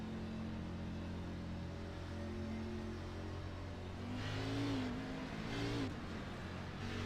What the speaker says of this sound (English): Wheel spin heavy there.